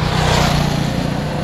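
Steady, loud engine drone of a motorcycle tricycle running and revving nearby, a continuous low rumble with no speech over it.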